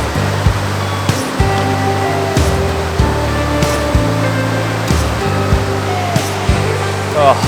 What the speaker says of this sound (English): Incredible little creek, mad rapids.